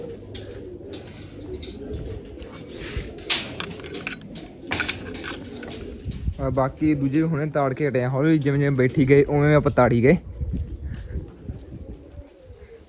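Domestic pigeons kept at a home loft coo in a rising, wavering run of several calls, fairly close, while someone talks over and around them.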